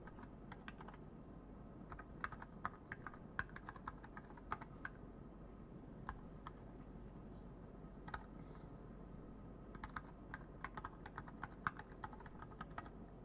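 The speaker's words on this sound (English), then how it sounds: "it's hard to type when I can't see the screen" Typing on a computer keyboard: faint, uneven clusters of quick key clicks with short pauses between bursts over a quiet room background.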